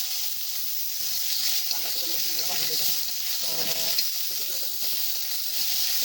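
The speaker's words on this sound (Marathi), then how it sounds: "तर तेल मस्त गरम झालं तर आपण कांदा पहिला भाजून घेऊया मस्त." Onion pieces fry in hot oil in a pan for moung dal, making a steady, close hissing sizzle with some faint stirring and clinking underneath.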